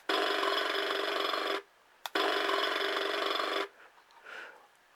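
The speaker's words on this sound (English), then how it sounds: "Jackhammer." A jackhammer sound effect from an MRC model train sound system plays in two harsh, noisy bursts of rapid hammering, each about a second and a half long, separated by a short pause and followed by faint handling noise.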